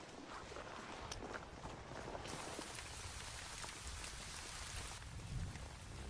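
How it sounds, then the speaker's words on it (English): Steady rain falls outdoors on a mountain summit trail at Mount Roraima, a dense continuous patter with faint footsteps and a possible distant rumble of thunder, no voices. "This is starting to rain."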